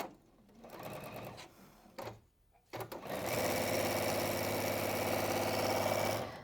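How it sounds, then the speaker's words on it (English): A sewing machine stitches two plain fabric squares together with a quarter-inch seam. Short bursts of motor hum come first, then a gap, then a long steady run of close, loud stitching. "I don't know why I carried on sewing, because I knew it hadn't picked the cotton up"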